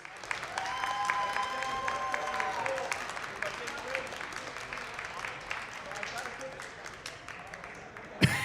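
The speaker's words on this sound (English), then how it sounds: "one more big round of applause for Divine" Steady crowd applause at a VR gaming LAN event in Amsterdam for the Pavlov tournament champions, moderately distant and soft, with tonal sounds and voices mixed in throughout.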